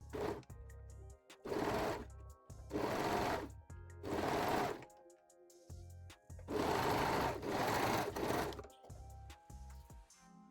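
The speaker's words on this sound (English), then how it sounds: "the center front seam. and sew the seam." A sewing machine stitches the center front seam of a Brazilian thong, running in several close, steady bursts of whirring separated by short pauses.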